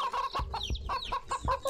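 A chicken in the game Wytchwood clucks in quick, choppy bursts, close and clear, with a few soft thuds mixed between the clucks.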